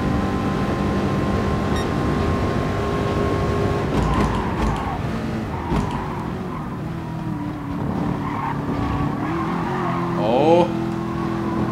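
Race cars on the Interlagos circuit in the video game GT Sport, engines droning steadily while tires squeal and skid briefly near the end; a voice exclaims once over the racing noise.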